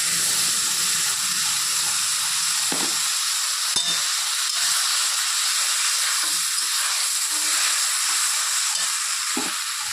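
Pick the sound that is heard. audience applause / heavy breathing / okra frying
okra frying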